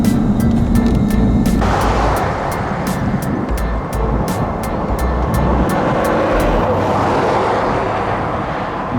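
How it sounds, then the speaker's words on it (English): Steady rumble of road traffic from storm chasers' cars during a Kansas storm chase in May 2022, broad and continuous throughout with a rhythmic ticking overhead, close and loud with no speech. "All the chaser traffic too, that's always fun."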